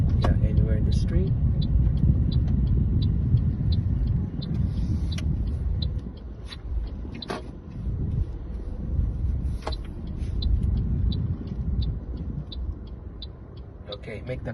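A car idles and rolls slowly as it pulls over to the left side of a street during a driving lesson, with a steady low engine rumble and occasional faint clicks.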